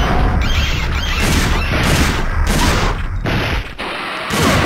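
Loud booming shotgun blasts in the video game Dino Crisis 2 go off in rapid succession, heavy and close, with a short lull near the end before another blast.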